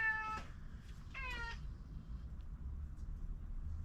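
A pet cat meows twice near a fish-filleting spot, each call a clear rising-then-falling cry, the second slightly longer, over a steady low background hum with no talking.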